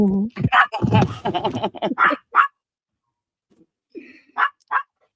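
A dog barks and vocalizes in short yips and whimpers, interleaved with someone talking close by, followed by a quiet gap and then a few more brief barks.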